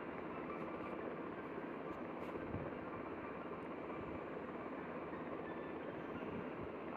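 Constant loud rotor and engine roar from inside a helicopter cabin, steady throughout with no talking.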